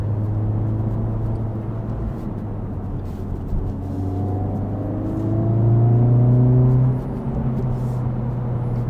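A 2023 Honda Civic Type R engine drones from inside the moving car, a steady low hum that swells as the revs rise briefly, then drops back to a cruising note.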